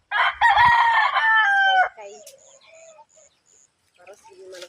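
A rooster crows loudly and close by in a rural home setting, its long call filling the first two seconds, followed by softer chirps and clucks from chickens with a voice speaking briefly.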